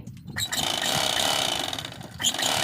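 Sewing machine stitching blouse cloth at an elbow sleeve seam, a rapid steady mechanical clatter running for about two seconds between short pauses, close and fairly loud.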